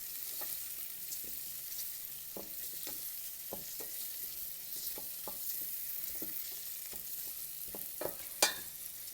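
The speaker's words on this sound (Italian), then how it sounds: "Poi vado ad aggiungere, ecco là, il riso e lo tostiamo." Rice toasts in a pan with white asparagus for risotto, sizzling with a soft steady crackle and occasional scrapes and clicks of stirring, fairly quiet and close.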